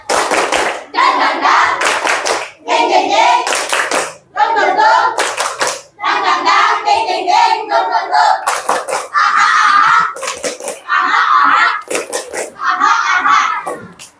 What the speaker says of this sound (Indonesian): Oke, sekali lagi supaya tambah semangat lagi ya. Tepuk semangat.